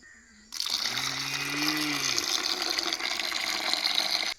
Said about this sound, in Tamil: அரிசி கழுவிக்கலாம்.